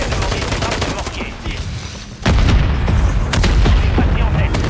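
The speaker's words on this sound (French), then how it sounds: "L'ennemi a demandé des frappes de mortier." Mortar strike explosions and gunfire in the Call of Duty MW3 video game: a steady din of rapid shots, then a sudden loud blast near the midpoint that jumps into a heavier, continuous barrage of booms and fire.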